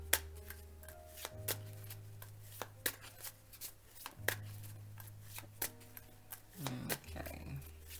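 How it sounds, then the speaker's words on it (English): A deck of tarot cards is shuffled close up by hand, giving repeated riffling bursts and soft card taps over a steady low hum, with no talking. "let's see if we can get these cards to come flying out now."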